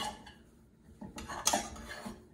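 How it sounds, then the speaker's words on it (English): A utensil scrapes and clinks against a pan while dessert batter is stirred over heat. The scraping is quiet and close, with a few sharper knocks near the end. "so let's just mix that up a little bit better."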